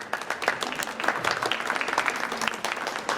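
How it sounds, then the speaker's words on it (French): An audience at a Paris alternative-medicine fair conference applauds a hypnosis volunteer, with sustained, moderately loud clapping from many hands and a few voices faintly mixed in. "applaudissez-la, elle le mérite."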